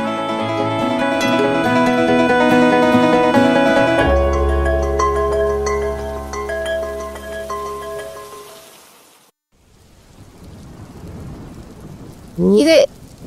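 Heavy rain pours steadily during a stormy night with a deep rumble of thunder, loud and close, then fades out into near silence before a brief sharp sound.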